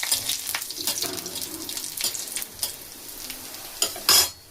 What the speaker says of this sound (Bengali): কড়াই দেখুন একটুখানি তেল দিয়েছি, আর অল্প একটু ভেঙে বড়িগুলো দিয়েছি